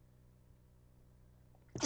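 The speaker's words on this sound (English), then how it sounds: "Okay, sorry, I had a sneeze." A single sudden sneeze from a person sick in bed, close and loud, bursting out at the very end after near silence.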